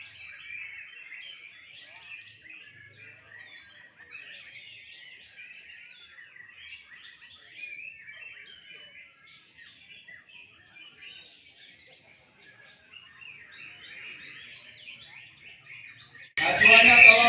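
An oriental magpie-robin (murai) sings continuously in bright, varied chirping phrases, steady and moderately near, before a sudden louder broadband burst at the very end.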